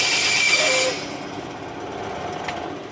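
A RAM stick is being cut to remove its gold fingers, a loud, harsh, close-up cutting noise that stops abruptly under a second in, leaving a quieter rough background hiss.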